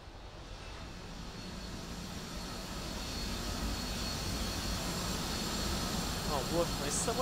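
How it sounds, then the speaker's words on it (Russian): Steady drone of the player's small plane engine in the Batman Arkham Asylum video game, a constant low roar that swells slightly, with someone talking over it. "А вот мой самолетик."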